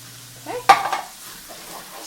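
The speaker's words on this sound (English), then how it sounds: "Stir it in." Canned soup being stirred in a hot pan for a cheesy tuna casserole gives one sharp scrape and a short burst of bubbling, then fades to quiet kitchen background.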